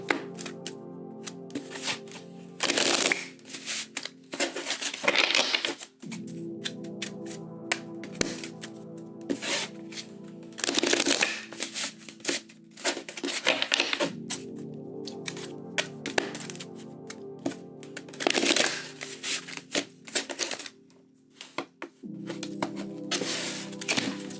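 A tarot card deck is shuffled up close in repeated bursts of crisp riffling and clattering, separated by short pauses, with no talking.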